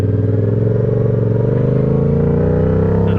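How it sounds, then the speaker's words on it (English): A motorcycle engine runs loud and close, its steady low rumble carrying an uneven, crackling pop, with no talk over it. "my bike be popping out of control,"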